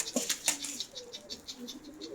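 Wings flap in quick bursts as a white pigeon comes down to land nearby, with soft cooing and faint voices around it.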